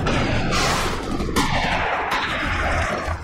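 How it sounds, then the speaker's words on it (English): Bombing and gunfire in war footage from Afghanistan: loud, dense bursts of blasts and gunshots with sharp cracks over a rumbling roar, continuous across a few seconds. "The first phase of this war was the bombing of Afghanistan."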